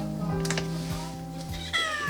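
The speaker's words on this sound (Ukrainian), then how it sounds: "Какая кошка." A cat meowing at a free animal sterilization event in Kryvyi Rih, a couple of short close meows over a steady background hum with brief speech.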